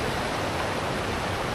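Madakaripura waterfall in East Java, Indonesia, roars as a steady, dense broadband rush of falling water, loud and continuous without pauses or other sounds.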